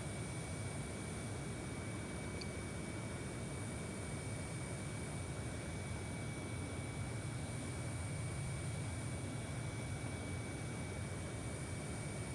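A Copa Airlines Boeing 737 MAX 8 in the X-Plane 12 flight simulator lines up on the runway, its engines giving a steady, even roar and whine, with a faint high tone running throughout and no talking.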